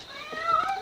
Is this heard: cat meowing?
yes